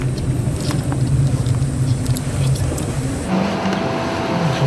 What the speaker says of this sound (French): La voiture d'Evelyne et Gérard tombe enfin dans la souricière.